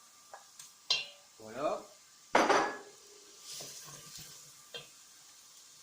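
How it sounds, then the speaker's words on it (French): Pork browning over high heat in a pan while its cooked-on juices are scraped up, heard as bursts of sizzling and clattering utensil scrapes against the pan, with brief speech between. "on met à feu vif, on récupère tous les sucres de la viande préalablement cuit."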